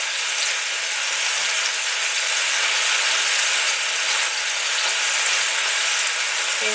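Homemade burger patties sizzle and fry in a pan while a spatula scrapes and shifts them, a steady close crackling hiss throughout with no talk.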